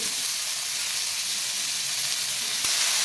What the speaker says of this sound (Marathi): या दोडक्याच्या शिरा या तेलामध्ये घालून घ्यायचा आहे